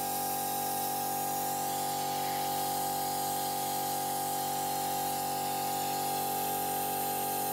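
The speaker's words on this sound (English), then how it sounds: "I gotta get the compressor going." An air compressor runs steadily during a Volvo 740 T5 engine swap, a constant mid-pitched whine with airy hiss, alone, fairly faint and unbroken throughout.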